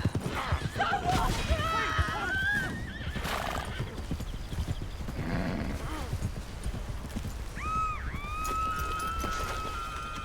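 Horse in Red Dead Redemption 2 whinnies loudly twice amid steady clip-clopping hooves, with game chatter and a captive's shouts running underneath.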